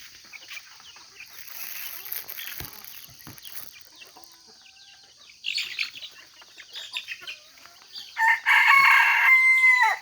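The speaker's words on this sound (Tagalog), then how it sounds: "Ayan, napakagandang tilaok." A bantam-labuyo cross rooster crows loudly nearby near the end, after quieter stretches of chirping birds and faint clucking from free-range chickens in the background.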